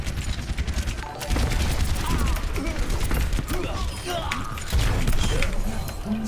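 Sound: Soldier 76 rifle fire in the video game Overwatch

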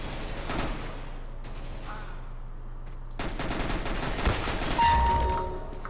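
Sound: gunfire in a video game (Arms Race mode)

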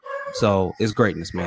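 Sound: dog barking

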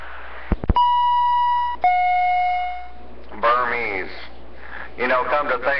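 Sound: beeping

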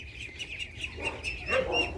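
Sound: khaki Campbell ducklings chirping

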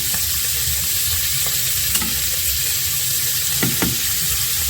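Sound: onions frying in a pan

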